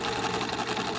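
A sewing machine runs steadily, stitching a quarter-inch seam around a fabric bib, its motor hum and rapid needle clatter continuous and close throughout.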